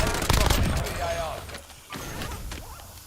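A burst of close, loud automatic gunfire in a soldier-themed shooter video game, then lighter scattered shots and game effects that continue with voices talking over the action.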